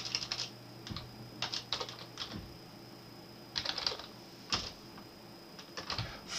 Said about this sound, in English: in the address bar at the top of the screen here, we type